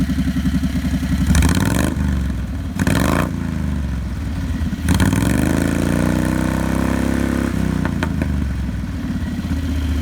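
A small 670cc Predator engine with a short muffler, in a Renault, runs with a raspy, buzzing exhaust note, revving up a few times in short bursts before settling into a steady idle.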